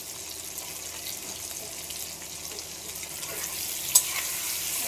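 A chickpea and moong dal curry is stirred in a pot. A soft, steady bubbling hiss carries under gentle scraping, with one brief click near the end and no voices.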